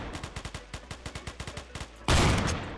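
Rapid, evenly spaced gunfire crackles in a Roblox Phantom Forces match. About fifteen sharp shots come in a steady rhythm, then a single much louder, heavier shotgun blast of a slug lands and rings out at the end.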